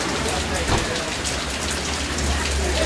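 Heavy rain pours down at Azay-le-Rideau, a dense, steady hiss of drops striking surfaces close by, with a low rumble underneath that lasts the full three seconds.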